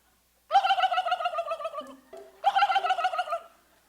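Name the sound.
turkey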